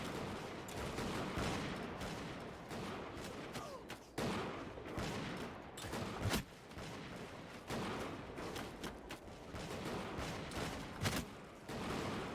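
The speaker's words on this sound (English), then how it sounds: "These guys over here are firing at me, which I don't like." Musket volleys from enemy soldiers in a Bannerlord battle in a European 1700 setting, British against French, crackle as a dense, continuous fusillade of overlapping shots with sharper individual bangs standing out, loud and sustained throughout.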